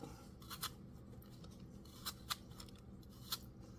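Knife slicing apple wedges into smaller pieces, giving a few faint, sharp crisp cuts in two quick pairs and a single later stroke over quiet room noise.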